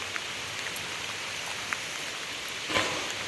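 Steady, dense rainfall hisses evenly on a balcony throughout, with occasional louder drops spattering close by and a brief splash near the end.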